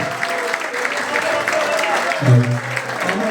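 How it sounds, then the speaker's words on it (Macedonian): Applause from a crowd honouring Tetovo football legend Stojmir Urošević at a reunion of FK Teteks players, a moderate wash of clapping with a deeper thump partway through and some voices mixed in. "Еден аплауз за нашата легенда од Тетово, Стојмир Урошевиќ"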